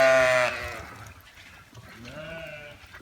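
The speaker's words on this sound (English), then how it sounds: "Time to go about the business of being a sheep." Sheep bleat at a farm, with a loud, long call at the start and a softer, wavering bleat later, nearby and without talk.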